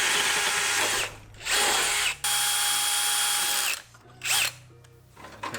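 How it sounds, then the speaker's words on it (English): A power drill fitted with a 3/8 bit runs in loud bursts while a throttle linkage is bolted onto a turbocharged 660 lawn mower. Several sustained whines come and go, separated by short pauses. "probably should do that with a 3/8 drill bit"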